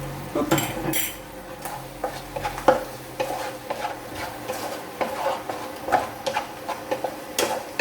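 A spoon scrapes and clinks against a pan while chicken with soy sauce is stirred, a soft sizzle underneath and irregular metallic taps repeating throughout, close and fairly quiet, no talking.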